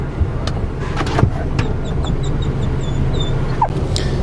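Dogs whimper and yip in short, high, repeated cries from the cargo area of a Toyota RAV4, close by over a steady low rumble of the vehicle.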